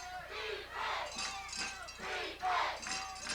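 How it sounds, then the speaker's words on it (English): A huge crowd roars at a 1999 high school football game between Thomas Stone and Westlake, surging in loud waves of cheering and shouts. "And this huge crowd."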